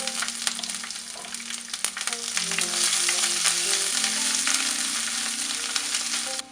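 Crushed ginger and garlic sizzle steadily in a hot pan with coconut and mustard seeds while a beef masala is cooked, a dense, continuous frying hiss with occasional stirring clatter, growing slightly louder midway.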